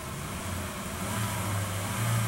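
A 1999 VW Passat engine revs up, a steady mid-pitched hum that rises gradually in pitch and loudness over a couple of seconds, heard alone without talk.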